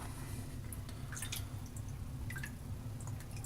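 Small drips of water fall onto an avocado and sea salt shave soap, soft wet splats and gurgles scattered over a low steady background, close and fairly quiet.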